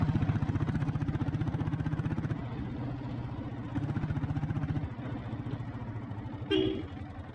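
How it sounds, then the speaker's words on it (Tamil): Red Deluxe self-start Royal Enfield Bullet diesel motorcycle idling up close, a steady rapid thumping beat that dips and resumes, with a brief higher rattle near the end. "வண்டி பீட்டு கேளுங்க, சூப்பராக இருக்கும்."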